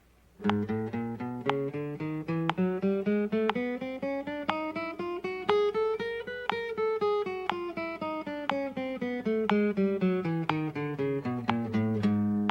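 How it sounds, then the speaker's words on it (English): A guitar climbs and descends a scale in even groups of four plucked notes per crisp metronome click, played steadily and close up. "And 4 notes per click. Sounds something like this."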